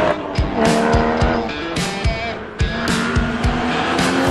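A Porsche Cayman GT4 with a 385-horsepower mid-mounted six-cylinder, six-speed manual and semi-slick tyres drives hard, its engine loud and close, with rhythmic shifts and bursts of tyre squeal.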